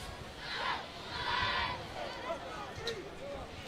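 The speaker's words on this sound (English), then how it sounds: "You hear the cheer crew." Cheer crew chanting at a high school football game between Ramona and Arlington in Riverside, with rhythmic group shouts rising and falling. It is fairly faint and distant, and crowd noise sits underneath.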